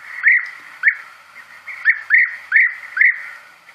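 European bee-eaters give a run of liquid, rolling trilled calls, about seven clear notes spaced irregularly, fairly close and alone against a quiet background.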